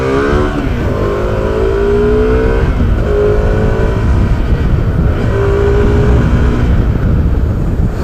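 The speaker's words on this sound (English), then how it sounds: "when you ride the bike, you will get to know how powerful this bike is and how greatly it can pull" A 28 bhp motorcycle engine revs up and pulls hard while climbing, its rising harmonic whine repeating through several upshifts over a steady loud roar, close and continuous with no talk.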